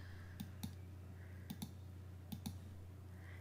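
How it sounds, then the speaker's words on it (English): A computer mouse clicks during Photoshop photo editing, three quick double-clicks spaced about a second apart, crisp and close over a steady low electrical hum. "And now I'm going to click."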